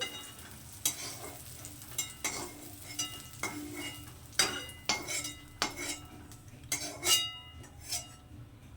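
Fried eggplant pieces are lifted from a sizzling pan with a metal utensil, giving a series of clinks and scrapes at irregular intervals over a steady background of frying.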